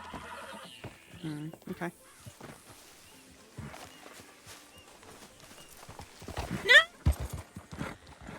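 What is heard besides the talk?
horse neighing and hooves in a video game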